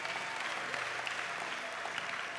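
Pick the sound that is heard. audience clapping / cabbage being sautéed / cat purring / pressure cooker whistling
audience clapping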